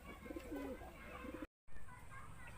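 Pigeons cooing in a cage, low soft coos repeating a few times at close range, followed by a brief dropout and then quieter background.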